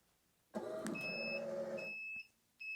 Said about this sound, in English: the timer's up, it made a few beeps